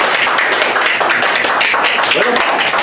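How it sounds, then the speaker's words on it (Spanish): A small crowd claps for a newly unveiled Supercopa football tournament logo, a dense, loud patter of hands with a cheer or voice mixed in, close and continuous. "¡Venga, aplausos!"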